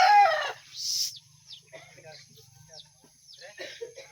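Chickens cluck in short scattered bursts close by, softer after a brief voice at the start and a sharp noise, with several separate clucks spread across the few seconds.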